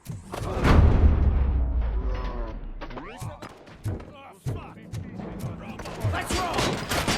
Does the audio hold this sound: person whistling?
no